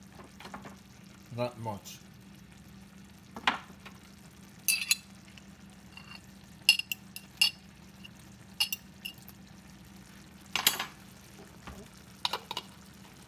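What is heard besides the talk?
tomatoes added to a frying pan, sizzling and stirred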